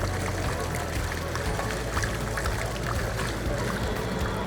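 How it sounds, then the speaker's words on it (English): A Zoeller model 803 grinder pump, 115 volt and half horsepower, churns steadily as it swallows a shop rag in sewage water, giving a continuous rushing, gurgling drone throughout. "And there it goes, taking the shop rag."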